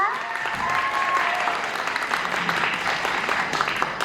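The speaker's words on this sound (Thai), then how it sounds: "สนุกมากๆเลยปรบมือให้ตัวเองหน่อยได้ไหมคะ" Steady applause from a concert audience at a live music show, a continuous dense clapping texture throughout with faint crowd voices beneath.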